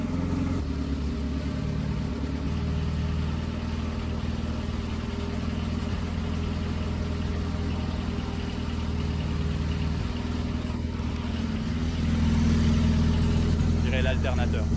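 An abandoned Honda Civic turbo engine idles steadily after starting, a continuous low rumble heard from inside the car, with someone talking over it.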